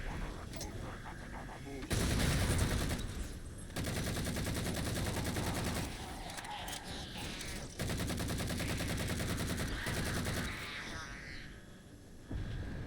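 Heavy gunfire and explosions rage through the final battle of the Halo 4 video game, loud and near, with dense bursts of shots and blasts pausing only briefly between waves.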